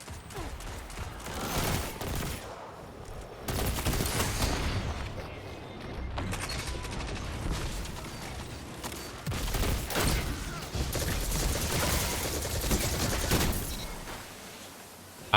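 Video game gunfire in Destiny 2 player-versus-player combat, dense rapid volleys of shots and booms in bursts across the whole stretch, loud and continuous with brief lulls.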